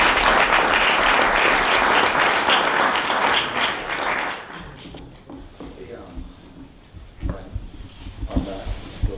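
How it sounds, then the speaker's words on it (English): Audience applause at a tech meetup, a dense wash of clapping for several seconds that fades out as a voice begins speaking. "Let's give Brian a warm applause."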